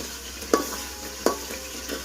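Coconut milk boiling down into homemade coconut oil in a pan gives a steady, close sizzle and bubbling, broken by two sharp clunks of stirring.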